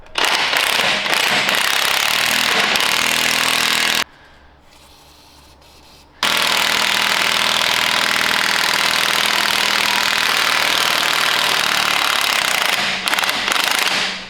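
A DeWalt impact wrench hammers bolts loose on a Land Rover Defender 110, a loud, continuous rattling drone that runs for about four seconds, stops briefly, then resumes for a long sustained burst.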